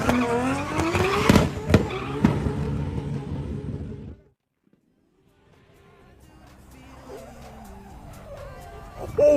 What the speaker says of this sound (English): He was spinning sideways, lifted, back in it, spun again, sideways, lifted, back in it again.